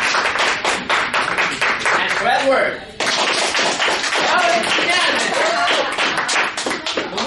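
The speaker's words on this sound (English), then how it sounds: "let's give another round of applause for this guy." Audience clapping at a BAACON anime cosplay contest in Maryland, a dense steady patter of hands with a brief dip midway while a presenter speaks over it.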